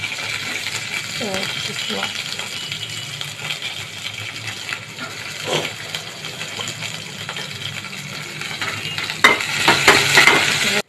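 Onions sauté in a pan for sambar with a dense, constant sizzle close by, and utensil clatter and bubbling pick up near the end.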